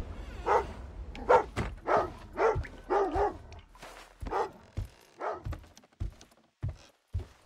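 Repeated dog barks from the Thief (2014) video game, a rapid series of loud yelping barks that slows into spaced single barks over several seconds, with no talk over them.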